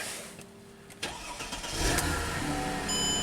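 A Mercedes E320 with a crank no-start fault cranks briefly, then catches and fires, its engine rising into a steady, close idle with a slight rev.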